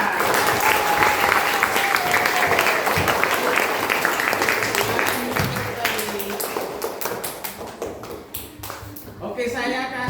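Classmates clapping for two fellow students in a classroom, a steady roar of many hands with voices talking and calling over it, thinning toward the end into sharper individual claps.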